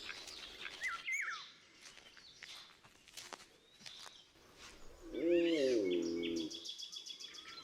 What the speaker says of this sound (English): Lapwings are the birds of open areas, such as meadows, wetlands and peat bogs.